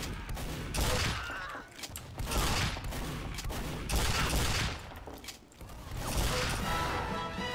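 In Team Fortress 2, a pepper gun fires in rapid bursts of dense, rattling shots. The bursts come in several loud waves with mechanical clatter and brief dips between volleys.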